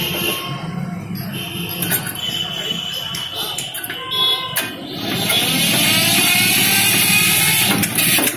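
A 2009 Eicher 242 tractor engine is cranked and starts, settling into a loud running rumble with metallic clatter after about five seconds, with people talking nearby over the cranking.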